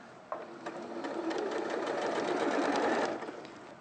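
A Singer industrial sewing machine runs a side seam in one continuous burst of rapid needle chatter, starting abruptly, holding a steady whirring drone for about three seconds, then stopping, close and clear.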